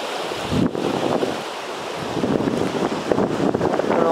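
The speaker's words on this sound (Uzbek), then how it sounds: "bu yerda yelvizak bor ekan sezdingizmi shamol yaxshigina" Strong wind blows across the Charvak mountainside near Chimyon, roaring and buffeting the microphone in loud, uneven gusts throughout.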